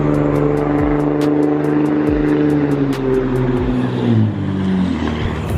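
A Racent RCS24 radio-controlled car runs on loose stone gravel, its motor whining loudly and steadily close by with pitch rising and falling as it revs, and crunching, rattling ticks from the stones underneath.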